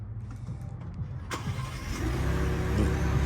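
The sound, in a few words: Ford Bronco engine starting by remote start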